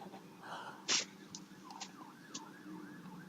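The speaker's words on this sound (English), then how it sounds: "The siren's still going." An emergency vehicle siren wails faintly in the distance from a street below, its rising and falling tone steady throughout, with one brief louder burst near the start and no talk.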